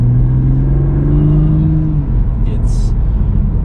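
A 2023 Toyota GR Supra sports car engine hums in a low, steady drone from inside the cabin, its pitch easing down slightly partway through.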